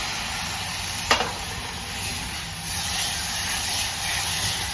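Tomato puree hits hot oil and sautéed spices for dal makhani: a brief splashing burst, then a steady, close, loud sizzle and hiss with faint stirring.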